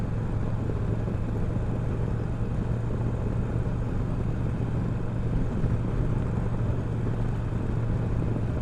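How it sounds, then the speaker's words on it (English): A shaft-drive motorcycle on a road ride gives a steady, continuous engine drone mixed with wind rumble. The level stays constant and nobody speaks. "It's nice to be out on the bike."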